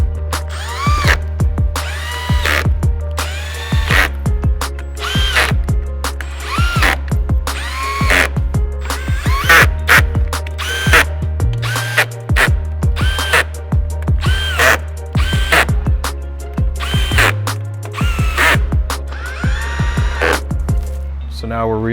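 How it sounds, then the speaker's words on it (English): A power tool drives the factory bolts, 7mm screws and a 10mm nut back into a car bumper during a rear wing install, whirring in repeated short bursts while a person talks throughout. "reinstalling the two 7mm screws and the 10mm nut in the corner of the bumper"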